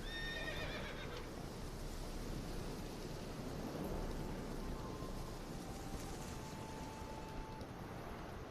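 A horse in the video game The Witcher 3 neighs loudly near the start, then fades into a steady wash of rain and rumbling thunder for the rest of the clip.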